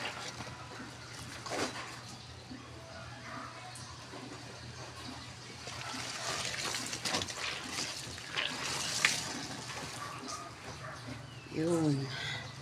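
Weak tap water runs steadily into a basin while clothes are hand-washed in batches, a constant trickling wash under other handling noises and faint bird-like chirps.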